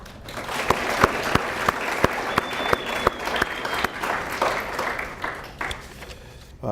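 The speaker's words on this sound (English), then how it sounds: "let's applaud the efforts of all our award winners today" An audience applauds award winners at an alumni association awards ceremony: steady, dense clapping from a large crowd, sustained at even loudness throughout with a few sharper individual claps standing out.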